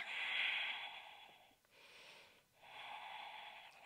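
A long, breathy exhale during a Pilates abdominal exercise, close and airy, broken by two brief pauses before the steady outbreath resumes.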